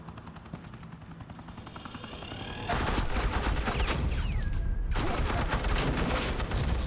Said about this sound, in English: suppressing fire.